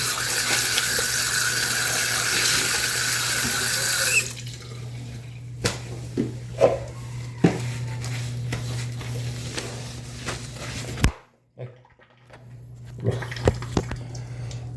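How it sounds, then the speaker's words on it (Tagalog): Steady rushing water pours from a tap for several seconds, then gives way to scattered drips and splashes in a quiet room. "Umaap na yung tubig."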